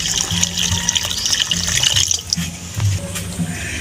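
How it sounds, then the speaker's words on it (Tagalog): Water is poured into a cooking pot for a pork pata dish, a close, continuous splashing trickle with small drips and no talking. "Konting tubig."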